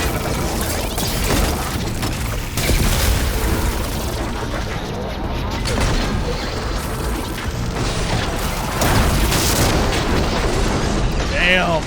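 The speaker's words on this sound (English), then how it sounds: "Damn, everything's exploding." Chaotic video game explosions, with dense overlapping booms and crashes under continuous gunfire and mechanical clatter, a loud, sustained barrage with a voice speaking over parts of it.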